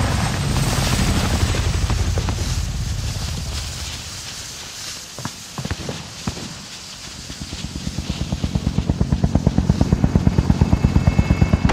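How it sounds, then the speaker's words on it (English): An attack helicopter in Call of Duty: Modern Warfare with a loud, steady rotor drone that dips in the middle, then swells back into a heavy, rhythmic thumping of blades passing close overhead. Scattered game sounds mix in. "Hostile attack chopper carrying cash."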